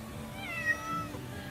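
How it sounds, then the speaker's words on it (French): A ginger cat being pulled out from under a car's hood gives a single drawn-out, wavering meow, close and moderately loud over low background rumble, with no talk. "Voilà donc pour ce chat roux extrait de cette voiture où il avait trouvé un bon logement"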